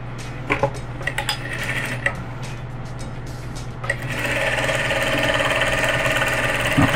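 A sewing machine stitches a fabric placemat, first in short bursts with clicks, then in a continuous steady run of rapid mechanical whirring up close.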